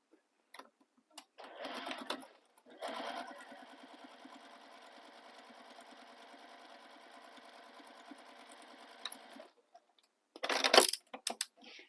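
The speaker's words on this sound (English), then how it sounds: "So now we're going to top stitch this seam." A sewing machine runs a long, steady top-stitching pass along a seam of a crossbody bag, preceded by a short start-and-stop burst, with a few handling clatters near the end; close and alone, no talk.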